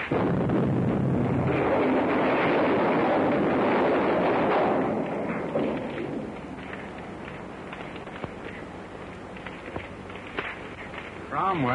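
A vintage plane's gas tank blows up after a crash among rocks, a loud sustained roar and rumble for several seconds that fades into lower crackling debris, with a sharp snap at the end.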